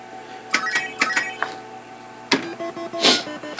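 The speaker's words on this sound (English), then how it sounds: "Let's coin it up." Coins drop into a Mr. Do! arcade cabinet, giving several bright metallic clinks and chimes in quick succession, followed by a sharper clank and a ringing tone, heard nearby.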